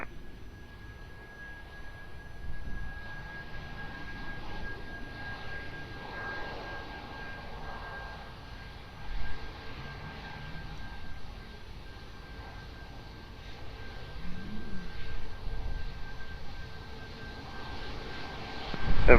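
A jet airliner at Lisbon Airport, heard as a steady distant engine roar with a faint whine, swelling in a few places as it powers up for takeoff.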